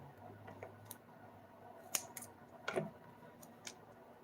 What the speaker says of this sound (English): I'm going to cut some little pieces here because I want to add some dimension